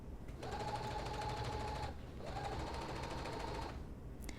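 A sewing machine basting along the stitching lines of a Butterick 5850 bodice, running in two steady bursts of rapid, even stitching, each about one and a half seconds long, separated by a short pause.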